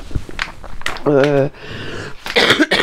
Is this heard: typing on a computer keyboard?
no